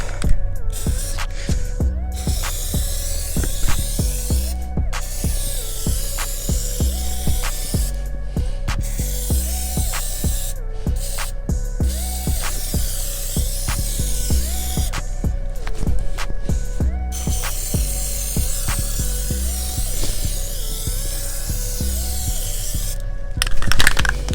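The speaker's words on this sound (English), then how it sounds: "First coat of plastic dip, again very simple, not too deep." Plastic dip coating is sprayed onto a car bumper from an aerosol can, with sustained hissing bursts separated by short pauses, close and loud, over a steady mechanical hum, no voices.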